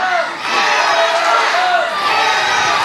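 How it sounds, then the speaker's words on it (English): An arena crowd at a wrestling title match in Columbus, Indiana roars and cheers loudly and steadily, with scattered shouts rising through the noise. "Gates, Lurch, are you hearing this crowd here in Columbus, Indiana?"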